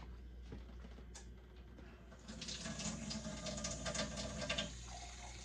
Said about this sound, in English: Now I might put a little more water in it because it's getting thicker.